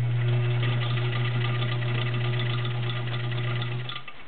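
A vintage Kenmore 1206 sewing machine, freshly serviced, runs with a steady, quiet low hum and a fine rapid mechanical whir, then winds down near the end; no one speaks.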